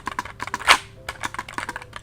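Typing on a mechanical keyboard with red linear switches: a quick, uneven run of close, crisp key presses, with one louder, sharper clack partway through and no talking.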